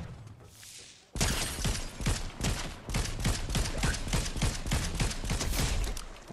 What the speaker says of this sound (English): Someone else is shooting me now.